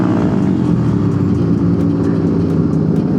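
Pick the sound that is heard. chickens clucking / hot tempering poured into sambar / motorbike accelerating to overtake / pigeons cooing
motorbike accelerating to overtake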